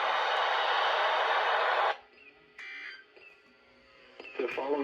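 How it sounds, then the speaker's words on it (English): Weather radio emergency alert system test tone, a loud steady broadband alarm sounding alone for about two seconds before cutting off, followed by quieter scattered sounds. "Test of the new weather radio warning alarm device and emergency alert system."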